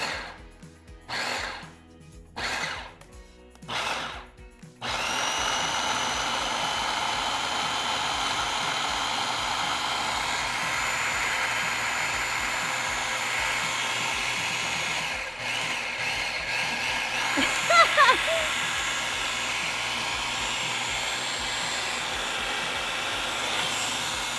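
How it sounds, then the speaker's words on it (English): A food processor pulses a cilantro mixture in three short motor bursts, then runs as a steady, loud whirring drone for a long stretch, with a brief dip midway. "So now this is ready to go in the food processor."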